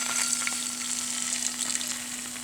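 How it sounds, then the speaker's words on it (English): Red wine hitting a hot pan to deglaze it for a beef stew gives a steady, bright sizzle that runs close and even throughout, with a faint low hum beneath and no voices. "turn on the heat again, and then trying to deglaze the pan to get all the yummy flavor off the pan"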